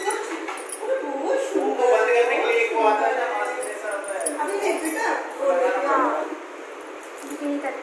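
A dog barks and whimpers close by in a home, yelping in short bursts with whining between, mixed with voices talking and some light clinking.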